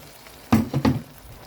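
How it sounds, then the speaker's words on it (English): Blended carrots, peppers and onions hitting hot tomato paste for jollof rice: two quick, close splattering sizzle bursts in a row, with quiet before and after. "Let's add our blended carrots, peppers, onions."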